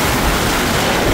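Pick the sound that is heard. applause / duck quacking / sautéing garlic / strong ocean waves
strong ocean waves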